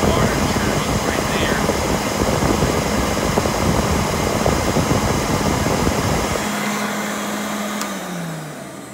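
A Rainbow D4c canister vacuum motor runs with a loud, smooth, steady roar close by, then winds down near the end as its pitch falls.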